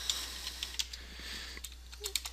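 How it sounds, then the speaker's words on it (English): Typing on a computer keyboard, a quiet run of light, irregular clicking keystrokes close by, with brief gaps between bursts. "I'm going to type in here"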